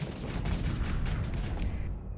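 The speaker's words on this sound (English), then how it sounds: "Fire the main cannon!" Heavy cannon fire from a main gun in the space combat game Starsector, a dense sustained rumble of booming blasts with overlapping impacts, loud and continuous across the moment.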